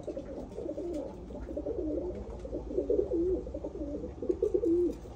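Tumbler pigeons cooing steadily at close range, a continuous layered murmur of soft throaty coos from several birds, with no talk over them.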